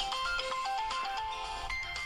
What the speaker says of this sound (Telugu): ఫోన్ వచ్చింది, ఫోన్ ఇవ్వమ్మా